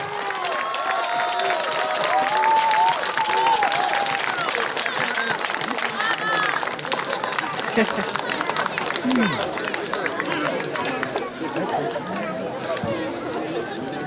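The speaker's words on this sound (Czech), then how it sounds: "Potlesk pro rytíře Ctibora Cimburka." Spectators at an outdoor medieval knights' tournament applaud with a steady, dense patter of clapping that holds for several seconds, while an announcer's voice carries faintly over the crowd.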